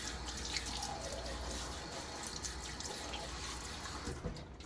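Steady running water and splashing at a sink while a man wets his face before shaving, continuous and close with no talking.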